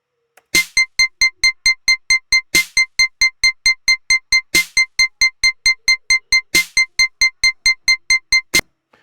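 A drum click pattern of nine beats per bar at 270 BPM: rapid, evenly spaced sharp ticks, with a louder accented hit opening each bar roughly every two seconds, crisp and dry with no voices.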